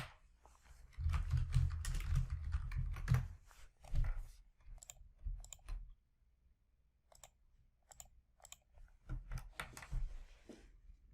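Typing on a computer keyboard while building a form in Argos DataBlock Designer, a quick run of clicky keystrokes at first, then sparse isolated key taps and short bursts, close and quiet with no talk.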